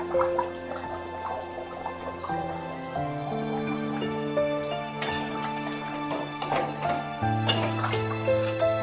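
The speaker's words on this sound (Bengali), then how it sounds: "ফুটছে তরকারি।" Bengali cabbage kofta curry simmers over a medium flame in a covered pan after water is added, with steady bubbling, small drips and occasional metallic clinks of pot and utensils.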